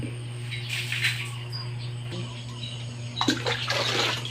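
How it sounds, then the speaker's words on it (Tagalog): Cold water is poured into a pot of hot water that was being kept below a full boil for scalding a chicken at a backyard farm, heard as a faint, steady splashing and trickling over a low hum. "so yung gagawin ko ay magdadagdag ako ng tubig"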